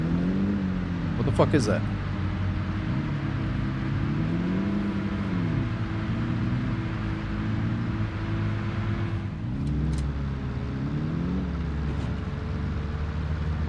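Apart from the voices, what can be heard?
car engine driving in the video game Arma Reforger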